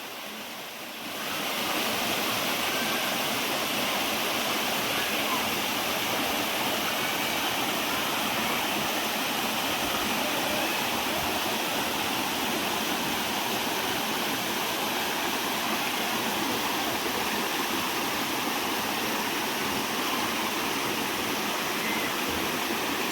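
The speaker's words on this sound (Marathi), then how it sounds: "धबधबा आहे" A waterfall in Komanadevi Oxygen Park, Sarde, roars steadily, a dense, continuous rush of falling water that stays loud and even throughout, with no voices.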